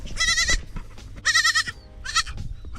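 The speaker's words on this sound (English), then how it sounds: "oh, that's a lost baby goat." A lost baby goat bleats in three loud, wavering cries spaced across the stretch, close by, with farm noise underneath and no talking.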